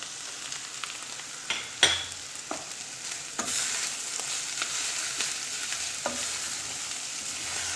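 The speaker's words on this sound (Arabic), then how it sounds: "فوالا قليتهم شويه. دوك نزيد الثوم تاعي" Carrots and garlic fry in a pan with a constant close sizzle, broken by occasional clicks and scrapes as they are stirred.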